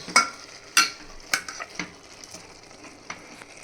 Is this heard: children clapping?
no